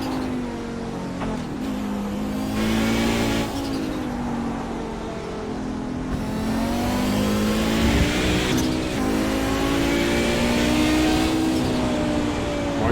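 An Audi 90 race car with four-wheel drive laps the Charlotte Roval at night, its engine droning loud and steady with pitch rising and falling through shifts and corners, other cars passing close by.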